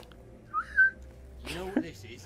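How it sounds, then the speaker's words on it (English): A person whistles a short, bright tune in a virtual-reality game heist scene, with a couple of clear rising notes followed by a louder, breathier burst. "I'm whistling."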